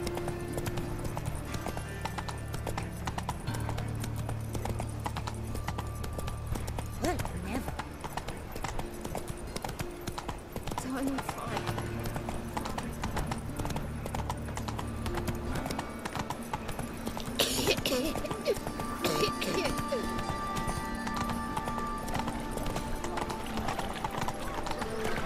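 Rhythmic galloping hoofbeats of the horse Roach in The Witcher 3, continuous and close, with a brief neigh-like whinny partway through and a low game ambience beneath.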